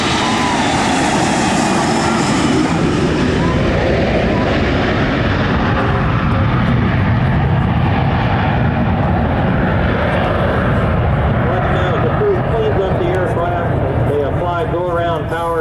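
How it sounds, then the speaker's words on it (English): A FedEx Boeing 727 jet roars past at a military air show at Quonset ANGB, loud and sustained, its pitch sweeping downward as it passes, with an announcer talking over it. "Ladies and gentlemen, the FedEx Boeing 727."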